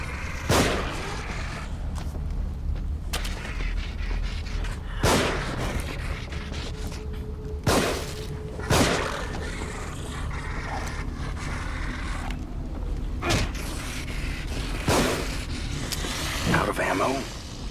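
Gunfire in the horror video game The Evil Within, sharp loud bangs scattered every second or two over a dense, noisy game ambience with scraping and mechanical creaks.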